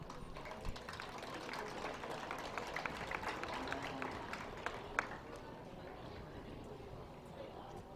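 Scattered clapping from an audience at a junior fair dairy cattle show at the Dodge County Fair, a steady faint patter of hands spread across several seconds in a large, distant space.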